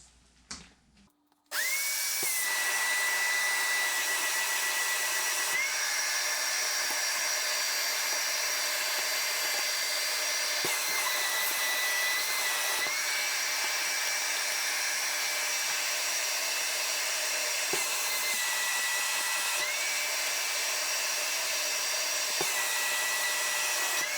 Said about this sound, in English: So now we're going to go ahead and vacuum this off.